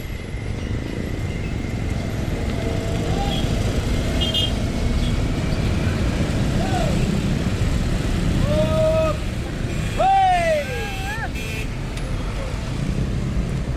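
Busy but free-flowing street traffic on a road in Medan: a continuous roar of passing cars and motorbikes, with several horn beeps in the middle, the loudest and closest around the tenth second.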